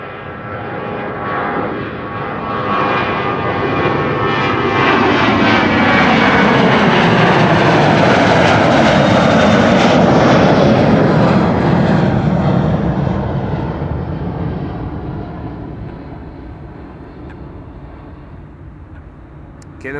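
A KLM Boeing 737 at Amsterdam Schiphol Airport roars past, its engine noise swelling to a loud peak midway and then slowly fading as it moves away.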